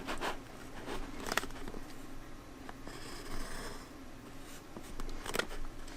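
A pencil scratches short dashes onto a paper tube prototype, soft intermittent scribbling strokes close by in a quiet room.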